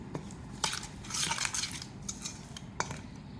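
Spices and ingredients such as kasuri methi, mint and green coriander being mixed in a bowl for restaurant-style butter chicken, with scattered clinks and scrapes of a spoon against the dish and a brief busier stretch of stirring.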